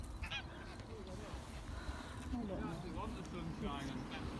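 Geese honk repeatedly from a flock beside a lamb farm at Eccup Reservoir in Leeds, the calls scattered and fairly close under a person talking.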